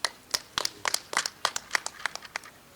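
Small audience clapping at a local gathering, sparse uneven handclaps close by, about a dozen distinct claps in quick irregular succession without talk.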